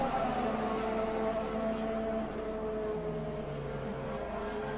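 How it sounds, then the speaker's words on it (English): A Formula 1 car at the 2014 British Grand Prix at Silverstone sweeps past while overtaking at Copse, its high engine whine droning steadily at a distance with shifting pitch and no speech. "Vettel overtakes him at Copse."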